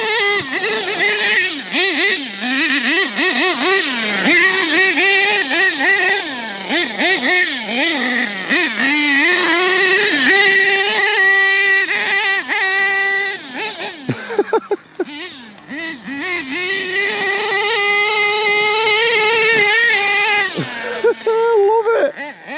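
An HPI Savage nitro RC monster truck drives over bumpy ground, its small engine buzzing in a high, wavering whine that rises and falls as the throttle changes. There is a short dip in the middle before it revs up again.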